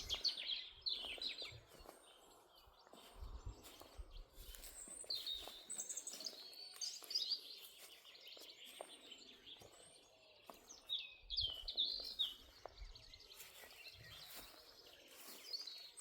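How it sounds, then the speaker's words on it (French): Many birds singing and chirping outdoors near a chicken coop, bright overlapping calls and trills coming in bursts, some close and some farther off, with no talking. "Moment de silence pour écouter le chant des oiseaux."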